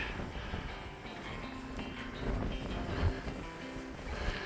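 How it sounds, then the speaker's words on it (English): Strong wind buffets the microphone on the summit of Bynack More in the Cairngorms, Scotland, a continuous loud rumbling roar with gusts swelling and easing. "The extreme wind is making it difficult to hold the camera steady."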